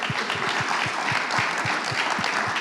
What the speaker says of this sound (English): I would open first like a warm round of applause for the panelists.